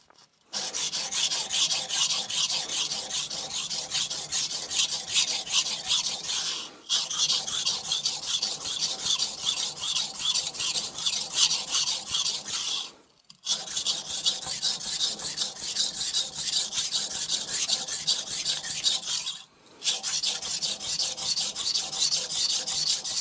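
A Hatsukokoro Kurogane Aogami 2 bunka knife is thinned on a Shapton Glass 220 whetstone, making steady, close, gritty rasping strokes in long continuous runs broken by three short pauses.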